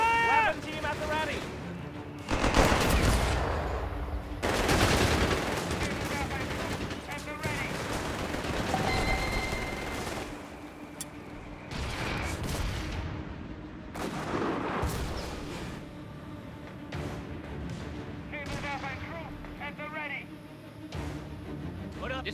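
Battlefield gunfire and artillery from Company of Heroes 3, a Wehrmacht 4v4 match, with bursts of rifle and machine-gun fire and heavy blasts rolling through a dense, continuous mix while soldiers shout orders over the fighting.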